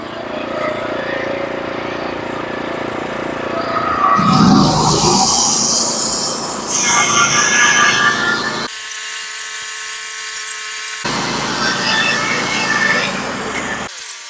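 HD36 sawmill cutting a 1x5x10-foot pitch pine board: a loud, continuous whining blade and engine roar that shifts in pitch as the cut progresses, with a sharp drop to a steadier hum partway through.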